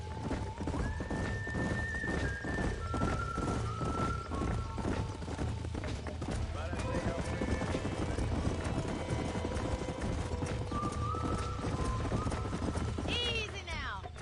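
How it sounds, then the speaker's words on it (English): Horse hooves clip-clop steadily in Red Dead Redemption, with a horse whinnying and neighing partway through over a rural ranch backdrop; the hoofbeats stay fairly close and rhythmic while people talk over them. "These are fine horses."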